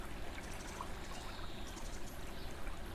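Water moving along a river channel below a reservoir, a steady, hissing wash of flow heard up close, with no voices over it.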